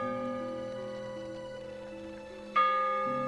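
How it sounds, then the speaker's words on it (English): A bell rings in the fishing game Dredge, a steady sustained toll with long ringing overtones, then struck again near the end so the tone swells brighter, heard alone without talk. "Why is the bell ringing?"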